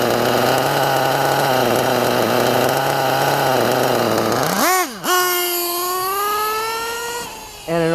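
A Hobao MacStar .28 RC nitro engine fitted with a Werks carburetor runs loud and close, holding a steady buzzing whine, then briefly dropping and revving back up into a rising high-pitched scream, with no voices.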